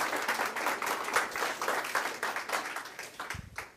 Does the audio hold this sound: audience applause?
yes